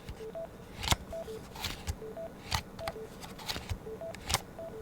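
Short beeping mute indicator tones from a Turtle Beach Stealth 700 Gen 3 gaming headset mic, pairs of faint electronic blips repeating over handling clicks and taps close by.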